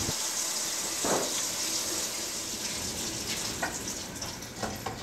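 A kitchen faucet runs with a steady, full rush of water pouring into a sink, continuous and fairly close, with a couple of brief knocks.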